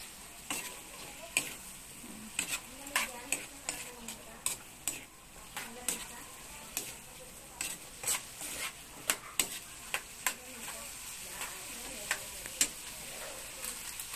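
Chop suey vegetables, including cabbage, are stir-fried in a pan and sizzle steadily while a utensil scrapes and clacks against the metal in repeated sharp, fairly regular strokes. No one speaks.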